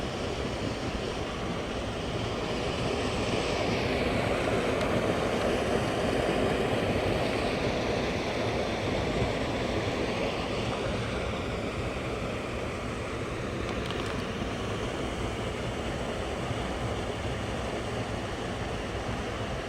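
Steady broadband rush of a river flowing past a farm dam, continuous and fairly loud with no pauses or voices.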